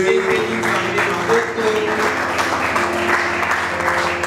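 Church congregation applauding and cheering together to acclaim God, a dense, steady wash of clapping and voices filling the room for several seconds, with a musical tone sustained underneath.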